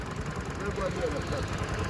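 An engine idles with a low, steady rumble and a faint chugging pulse, masked by broadband background noise.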